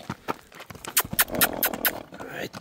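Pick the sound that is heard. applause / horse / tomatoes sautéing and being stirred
horse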